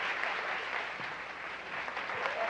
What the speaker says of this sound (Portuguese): Vamos aplaudir a minha tradutora de Libras